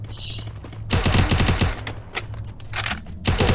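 Loud rapid SMG bursts in the Free Fire video game, several long volleys of close automatic gunfire separated by short pauses.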